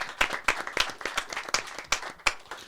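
A small studio audience at a French comedy show gives scattered applause. A handful of distinct, sharp claps ring out in an uneven rhythm rather than a dense ovation.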